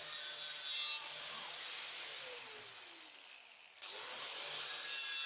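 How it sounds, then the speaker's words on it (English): Wire brush on an angle grinder scouring rust off a car bonnet, a steady high whirring grind with a brief dip in pitch and level midway before spinning back up. "One of these wire brush things on an angle grinder."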